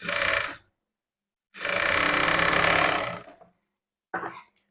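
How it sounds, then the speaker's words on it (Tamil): A sewing machine stitches a quarter-inch seam on the wrong side of a blouse in three bursts: a short run, a longer steady run of about two seconds, and a brief final burst, with silent pauses between. "ராங் சைடு திருப்பி ப்ளவுஸோட முன் பக்கத்தை வச்சுட்டு கால் இன்ச்சு அளவுக்கு நான் வந்து தையல் போடுறேன்"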